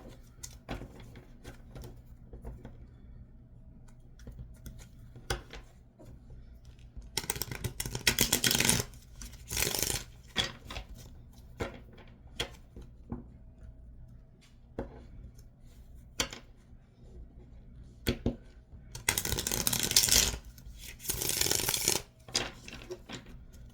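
Tarot cards are shuffled close up in bursts of quick riffling and crisp flutters, separated by quieter stretches of light taps and handling.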